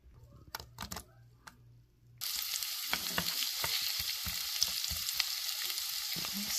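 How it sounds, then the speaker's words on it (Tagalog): Onion hits a hot frying pan for pork menudo and breaks into a loud, steady sizzle that keeps on, with a few light clacks of stirring before it starts. "Igisa na natin ang ating onion."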